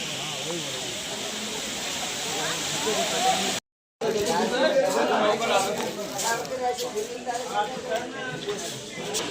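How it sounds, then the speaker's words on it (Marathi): A loud, steady roar of rushing water fills the scene, like a waterfall close by, with people talking over it and a brief dropout midway. "आपली धबधबा स्पीड बघा"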